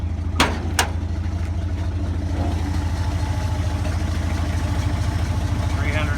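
A 1979 Ford F100 with an inline six engine idles steadily and loudly up close, an even low pulsing throb, with a couple of sharp clicks near the start.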